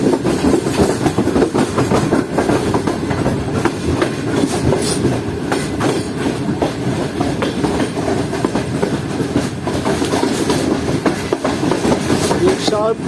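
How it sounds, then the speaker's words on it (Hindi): The Karakoram Express runs on the tracks between Karachi and Lahore, heard loud and close from the last coach as a dense, continuous rumble with rhythmic clickety-clack wheel beats and faint squeals, steady throughout with no clear talk. "शार्प राइट जब ले रही है सर हमारी ट्रेन"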